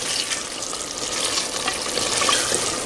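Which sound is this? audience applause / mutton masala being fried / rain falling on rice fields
mutton masala being fried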